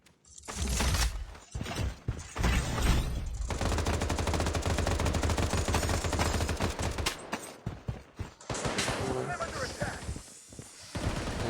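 Gunfire in the first-person shooter game Blood Strike, loud rapid automatic bursts that run almost continuously for several seconds, pause briefly, then resume, with a player talking over the action.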